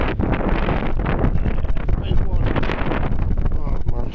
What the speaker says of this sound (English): Sorry about this wind.